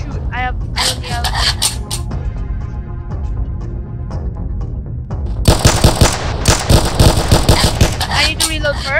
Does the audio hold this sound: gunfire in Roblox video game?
yes